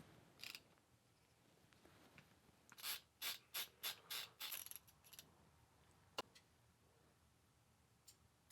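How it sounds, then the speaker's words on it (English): Faceplates coming off two Ko-ken 1/4-inch drive ratchets, an older 36-tooth and a 72-tooth Z-Series prototype: a quiet bench with a run of six or seven distinct metallic clicks and clacks in close succession, then a few isolated ticks. "Let's go ahead and take the faceplate off of both of these ratchets"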